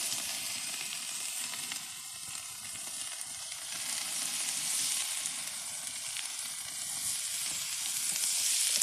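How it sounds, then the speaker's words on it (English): Chopped onion sizzles steadily in a hot cast iron skillet, a continuous bright frying hiss with faint crackles that swells slightly toward the end, heard up close with no talking. "listen to that sizzle. Ooh, that was good. Yeah, I love a cast iron skillet."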